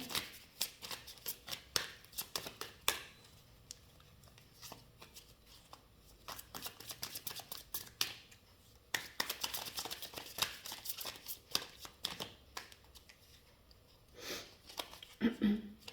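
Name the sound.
shuffling tarot cards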